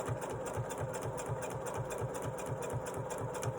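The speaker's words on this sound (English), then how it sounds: "And now I sew." A sewing machine runs steadily on its own, a close, even mechanical chatter with a regular rapid pulse and no pauses.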